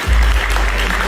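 A live studio audience applauds steadily after guests are welcomed to the stage, a dense wash of clapping with a low rumble underneath and no speech over it.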